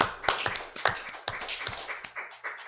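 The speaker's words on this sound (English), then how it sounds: "Big round of applause" Scattered hand claps from a small audience at a school board meeting, a few sharp individual claps spaced irregularly rather than a full ovation, moderately close in a quiet room with no talking.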